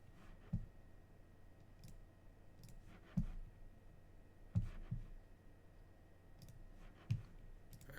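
Computer mouse clicking through a repetitive card-game combo: four or five soft, isolated clicks spaced a second or two apart, faint and close over a quiet hum, with no talk.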